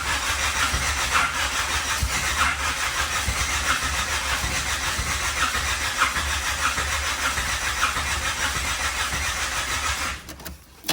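A turbo Honda Del Sol engine cranks repeatedly without catching, a fast, steady starter churn heard up close for about ten seconds before it stops.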